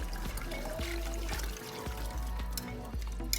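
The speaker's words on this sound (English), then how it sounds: "we just keep adding more broth" Broth pouring into a pot of white chicken chili, a steady close liquid splash and trickle over a low background hum.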